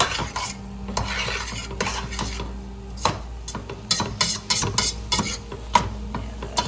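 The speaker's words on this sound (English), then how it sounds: "we're gonna cook for another 2 minutes to get that all blended in and get that garlic cooked off" Garlic and Cajun seasoning sizzling in a soup pot while a spoon stirs and scrapes, steady frying hiss broken by frequent metallic clinks against the pot, close and moderately loud, with no talking.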